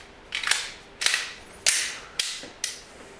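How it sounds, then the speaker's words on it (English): Pistol magazines being fitted into the gun and dropped free, five sharp metallic clacks and slides spaced about half a second apart, close and clear with no voices. "He's going to check and make sure that all the magazines are fitting and dropping free"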